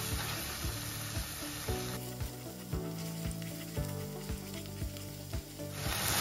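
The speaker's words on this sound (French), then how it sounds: "Là, je vais laisser revenir pendant 5 minutes." Sauce ingredients for an okra (gombo) côpê sauce browning in a pan with a steady, close broadband sizzle, running continuously under rhythmic background music with a regular beat.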